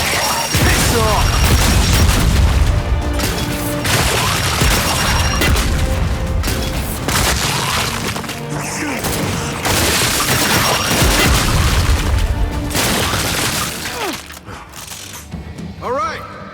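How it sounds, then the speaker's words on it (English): Grenade explosions and heavy gunfire in a Gears of War 5 battle, a dense run of loud booms and cracks under shouted voices. "Throwing grenade!"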